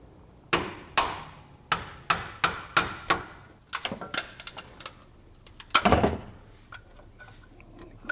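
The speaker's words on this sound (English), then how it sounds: "I'm going to use a hammer and a screwdriver and just kind of whack that thing off there" Hammer driving a screwdriver to knock plastic off a 2010 Dodge Ram truck radiator: a run of sharp, evenly spaced metallic whacks, then quicker irregular taps and knocks.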